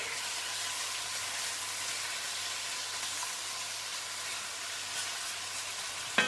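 Chinese pork belly searing in a hot pan, a soft, even hiss and sizzle heard up close and fairly faint, ending in a brief clatter, with no speech.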